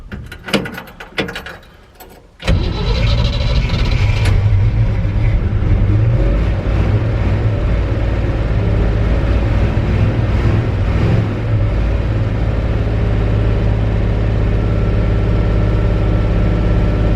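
An old 1963 Chevy C30 truck engine turns over and catches around two seconds in, then runs loud and steady with a low rumble, roughly idling without stopping.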